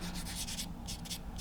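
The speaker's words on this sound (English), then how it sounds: "I've just done a little bit of sanding" Plastic parts of a 1/48 scale X-47B model are sanded by hand in short, quick rasping strokes, close and fairly quiet, with a brief pause midway.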